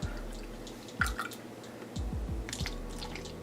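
Whole milk (Silk Next Milk) pours into a glass, with close, wet gurgles and drips, a few distinct splashy bursts over a quiet room.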